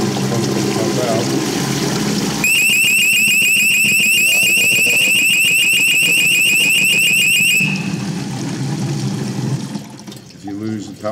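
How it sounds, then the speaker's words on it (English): A boat's bilge pump high water alarm sounds as a loud, steady electronic beeping tone for several seconds over rushing water from the pump, then stops while the water noise continues. "when the high water alarm activates, the water comes in faster and the pump can pump out"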